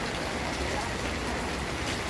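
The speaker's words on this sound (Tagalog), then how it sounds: "Ayan guys, sobra pa rin ang ulan." A continuous wash of heavy rain, falling for days on end, fills the scene as a steady, dense hiss with no breaks.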